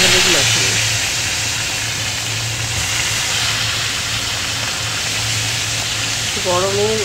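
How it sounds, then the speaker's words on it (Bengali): Rohu fish pieces rubbed with salt and turmeric fry in mustard oil, a loud, steady broadband sizzle and hiss close up that lasts throughout, with a brief voice-like tone near the end. "সর্ষের তেলে মাছগুলো প্রথমে ভেজে নেব"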